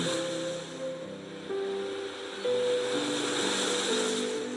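Sea waves wash in a steady, soft roar of surf that swells slightly partway through, with faint sustained tones running beneath.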